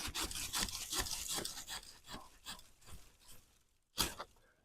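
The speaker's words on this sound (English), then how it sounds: "But with the silky saw, you get a much cleaner cut." A Silky pull saw cuts through hardwood for bonsai cuttings, with close, quiet rhythmic rasping strokes that slow and fade before one last sharp stroke.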